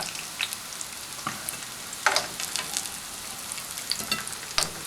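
Onion pakoras frying in hot oil, giving a steady close crackle and sizzle with scattered sharper pops and spits throughout, and no voices over it.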